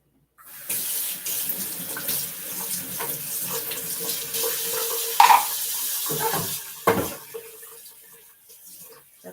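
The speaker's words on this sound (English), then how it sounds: "Got the dishes washed." Running tap water pours steadily into a sink while dishes are washed, with splashing and a few sharp clinks and knocks of dishware near the end, close and fairly loud throughout.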